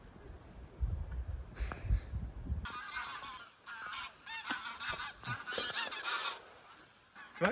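Geese honk repeatedly in a lively cluster of calls near a wild campsite in Norway, loud and fairly close, following a stretch of low rumbling outdoor noise.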